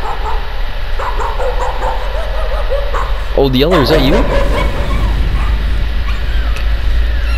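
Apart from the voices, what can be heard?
dog barking in a video game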